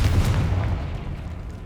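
A Confringo blasting spell in Hogwarts Legacy goes off as a short, deep booming explosion with a rumbling low-end thud that quickly fades.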